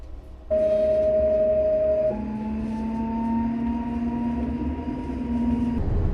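A PKP passenger train pulling out of Warszawa Lotnisko Chopina station, its electric traction motors giving a steady tonal whine that steps to a new pitch and slowly climbs over a low rolling rumble, heard close and clear.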